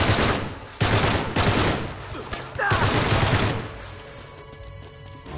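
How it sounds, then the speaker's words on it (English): Gunfire in the Uncharted 3 video game, with dense loud volleys of shots that break off briefly and then fade into quieter background sound. "Someone's shooting me."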